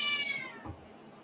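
A cat gives a single drawn-out meow up close, clear and moderately loud, trailing off into quiet room tone.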